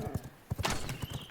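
Horse hooves clip-clop in the video game V Rising, a quick uneven run of soft thuds heard close, with a faint whinny-like tone among them.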